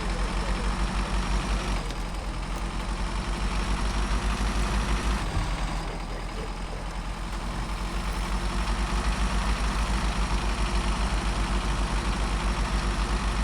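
Heavy truck engines idle in the off-road driving game Snowrunner, a steady low diesel rumble that holds at one level throughout, loud and close, with no talk over it.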